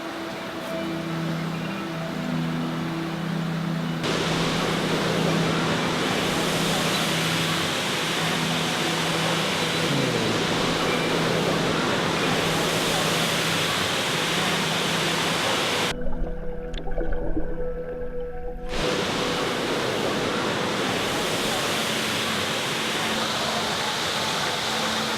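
Steady broadband rush of water at Florence Falls near Darwin, a continuous waterfall roar throughout, briefly dipping and then returning, with no talk.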